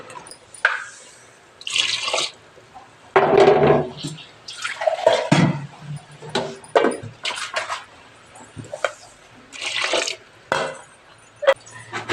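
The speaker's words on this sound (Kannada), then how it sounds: "ಮಿಕ್ಸಿ ಜಾರ್ಗೆ ನೀರು ಹಾಕ್ಕೊಂಡು" Water is poured into a mixer jar for a Hassan-style mutton sambar in a series of short, splashy bursts separated by quiet gaps, close up, with dripping sounds in between.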